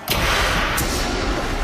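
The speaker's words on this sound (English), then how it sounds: "She's still gonna freak out when it explodes." A prank explosion set off by pressing a button at a staged wedding gives one loud, sudden blast and then a long rumbling decay, with a second sharp crack partway through.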